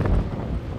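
Strong stormy wind buffets the microphone beside a car in a dense, low roar, rumbling and gusting without a break for the short moment.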